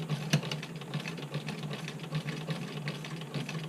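A Porcelynne hand crank sewing machine stitches fabric in a steady, fast mechanical whir with a faint rhythmic clatter, moderately close and continuous, with no talking over it.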